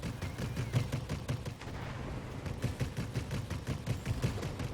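Aircraft guns strafing ground targets in the video game World of Warplanes, a rapid steady stream of loud gunfire bursts over engine rumble, pausing briefly partway before resuming, no talk.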